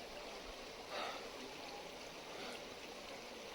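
A mountain stream flows into Nako Lake high in the Spiti valley, a steady rushing wash of water heard close and continuous, with a brief swell in loudness.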